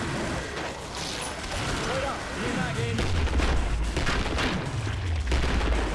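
Gunfire in the video game Killing Floor, a rapid run of shots and booming impacts in a cooperative match, with low rumbling blasts and clattering mechanisms filling the scene.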